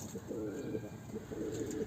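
Breeding pigeons in a loft coo softly in low, throaty rolling bursts that overlap steadily, close and continuous under a faint background hiss.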